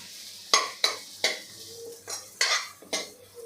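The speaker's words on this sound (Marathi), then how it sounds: "सतत हलवत आपल्याला हे परतून घ्यायचं आहे" Ground rice is stirred and roasted in a pan for kheer, a spoon scraping and clanking against the pan in about seven sharp, evenly spaced strokes over a faint background sizzle.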